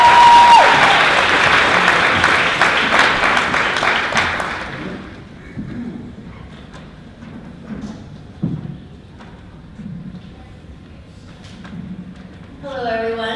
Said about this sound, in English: One more round of applause for Stacy.